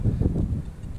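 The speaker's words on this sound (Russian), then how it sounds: "Блин, ветер, я не знаю, как меня там будет слышно." Wind buffeting a microphone out in an open field, a steady low rumble with gusty swells that stays loud for the whole second and then eases slightly.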